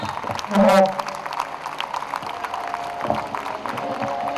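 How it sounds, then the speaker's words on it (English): Audience applause at a playgroup fashion show in Karve Nagar, a sustained crowd clapping with scattered cheers, a brief loud shout near the start and murmuring voices throughout. "I need louder applause, everyone!"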